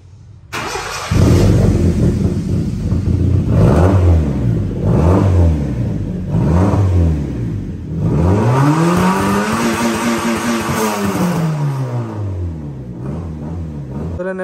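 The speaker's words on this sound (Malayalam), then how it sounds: "വണ്ടിയുടെ എക്സോസ്റ്റ് നോട്ട് നമുക്കൊന്ന് കേട്ടു നോക്കാം എങ്ങനെയാണെന്നുള്ളത്" Customised Honda City car revving its engine in a series of rising and falling surges, with a rumbling exhaust note throughout and a longer sustained rev near the end. The sound is loud and close, with no talking.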